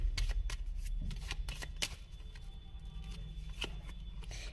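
Playing cards are shuffled and handled at close range, a run of quick crisp riffles and flicks ending with the deck being gathered and set aside, with no talk.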